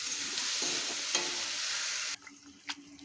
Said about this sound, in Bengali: আলু ভাজা হচ্ছে।